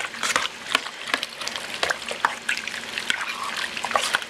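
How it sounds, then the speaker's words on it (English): Cheesy macaroni stirred in a pot with a spoon, giving soft, irregular wet squelches and scrapes against a faint background sizzle, close and fairly quiet with no talking. "And now we can continue back to stirring."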